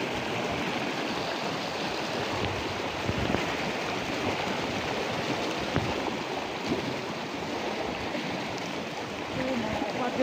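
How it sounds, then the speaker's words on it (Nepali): The Letang River stream in Nepal flows with a steady, full rush of water that stays loud and even throughout, with no clear voices on top. "खोला हो खोला"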